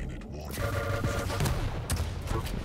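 Rocket launcher blasts and rapid weapon fire from an arena shooter duel crackle in dense bursts under excited live commentary.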